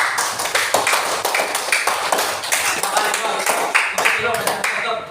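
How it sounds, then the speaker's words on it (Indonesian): A classroom of students claps for a student group, a loud, dense round of hand clapping with uneven rhythm that continues for about five seconds, and some voices can be heard underneath. "Tepuk tangan untuk kelompok 2"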